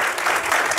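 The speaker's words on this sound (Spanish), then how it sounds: "despedimos a Fer con un gran aplauso" A conference audience at an open-source tech event gives a speaker a short, dense burst of applause, many hands clapping at once.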